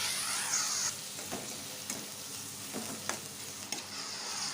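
Chopped onions frying in ghee for prawn ghee roast, a steady close sizzle with a few scraping stirs of a spatula through the pan.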